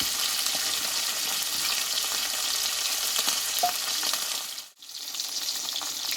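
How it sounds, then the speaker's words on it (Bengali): Bata fish frying in hot oil sizzles steadily and loudly at close range, a dense continuous crackle that briefly dips near the end before resuming. "আমি দুইবারে ভেজে নেবো মাছগুলোকে"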